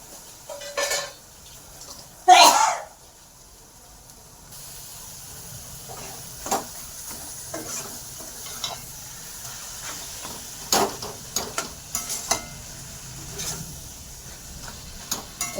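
Deboned fish frying in spiced masala in a pan, stirred with a utensil: sharp metallic clanks and scrapes, one loud clatter early on, over a faint, steady sizzle.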